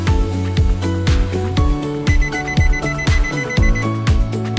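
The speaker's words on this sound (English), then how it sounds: "The buzzer will sound a few times." A 2014 Nissan Murano's buzzer sounds a rapid series of loud, steady electronic beeps during smart key programming, ringing clearly on its own with no talk.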